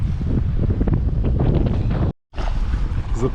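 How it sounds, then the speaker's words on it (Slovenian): Strong wind gusts roar steadily past the microphone on a sailboat anchored in a bay in Symi, Greece, with the wind coming down a rocky hillside. The wind is loud and broadband, drops out for a moment, then returns. "Tle se vidi, kako veter od stene sem piha."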